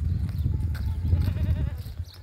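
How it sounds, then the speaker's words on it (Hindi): A goat on a livestock farm bleats in short, rough calls close by, with mixed farm noise and murmuring in the background. "ये बकरा और झालर देखें"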